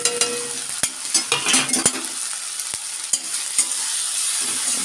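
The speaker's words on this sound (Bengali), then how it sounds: "মশলাগুলো দিয়ে একটু কষিয়ে নিয়ে আমি আসছি আবার" Spices stir-fried with chopped tomato and green chilli in a pan, a close sizzling hiss broken by sharp metal spoon scrapes and clanks against the pan, with no talking.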